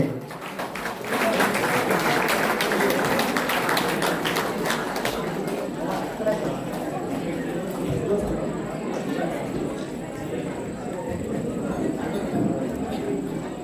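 An audience of commerce students applauds at a college drama event, a dense, loud burst of clapping that holds steady throughout, close and continuous, with a voice faintly under it.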